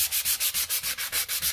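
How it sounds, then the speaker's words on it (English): Power sander rounding the edges of a wooden floating shelf, a loud, close whirring grind that pulses in a fast, even back-and-forth rhythm. "Took my sander."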